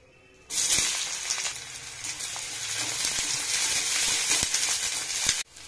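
Chopped onion hits hot mustard oil with a sudden loud sizzle that holds steady and close for about five seconds, broken by a few light clicks of stirring before cutting off.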